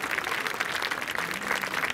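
A crowd applauds steadily, dense clapping at moderate volume with no talk over it.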